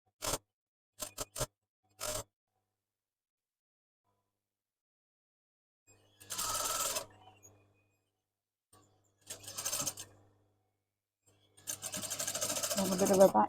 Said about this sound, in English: I'm just going to do a bit of a back tack again over that so that those side seams are really secure.